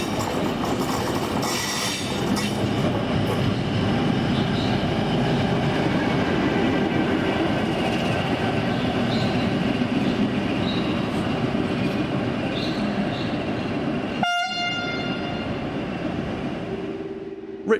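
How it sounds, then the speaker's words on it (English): Locomotive 1415 runs around its train, a steady rumble of rolling wheels with clicks and faint squeals, and a short sharp horn-like tone near the end. "This is 1415 running around its stock"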